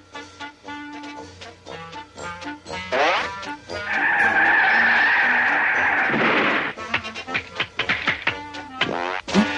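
A cartoon car brakes hard, its tires giving a long, loud, sustained screech in the middle of busy animated sound effects and music, with no one talking over the skid.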